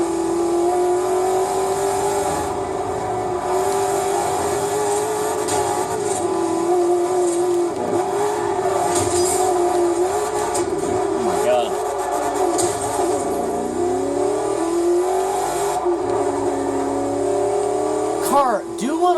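Car engine driven and accelerating in the Forza Horizon racing game, a steady droning motor with shifting pitch and rising revs throughout, heard alongside a person talking.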